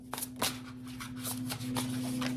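Someone shuffles a deck of oracle cards close up, making soft repeated riffles and card slaps over a faint steady hum in a quiet room.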